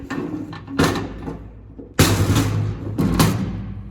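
The door of a spraying truck rattles and thuds as it is worked open or shut, a few loud close knocks and slides spread over a few seconds, with no talking.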